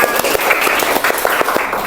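A classroom of students applauds together, a dense burst of close, rapid clapping that fills the whole moment without speech.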